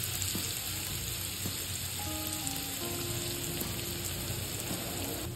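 Finely chopped onion fries in hot oil for chicken sukka, giving a steady, close, continuous sizzle and crackle throughout, with no talk.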